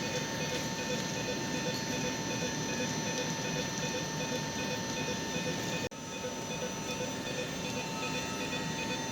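Steady hum and hiss of a stationary German high-speed train at a station platform, with a constant electrical whine and a brief dip partway through.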